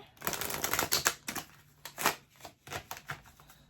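Angel answer cards are shuffled by hand in quick flurries of riffling and slapping, close and fairly quiet, with short pauses between bursts and no talking.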